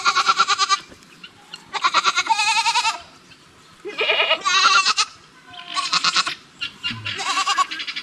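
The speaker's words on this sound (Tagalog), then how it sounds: "So, hilabol sa ating kambing yung aso natin." Goats bleating over and over as a dog chases them, several loud, wavering calls in bursts with brief gaps between, close by and with no talking.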